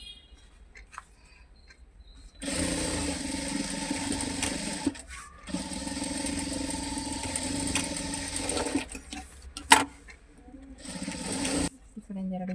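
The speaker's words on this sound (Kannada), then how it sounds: "ಸ್ಟಿಚ್ ಮಾಡ್ಕೊಳ್ಳಿ" Sewing machine stitching a four-cut handbag at home, a steady close mechanical whir running in long bursts with brief pauses between, a few small clicks and handling noises around it, no talk over the stitching.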